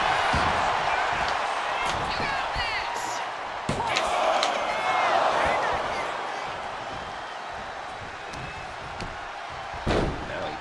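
Wrestling slam as an object shatters over a wrestler's back during an XWF match, a sharp crash followed by arena crowd noise and excited commentary.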